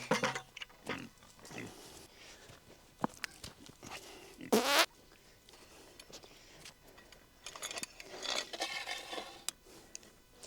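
A sow and her newborn piglets grunt and snuffle in a farm pen, with scattered close grunts and one brief louder squeal-like burst, no talking.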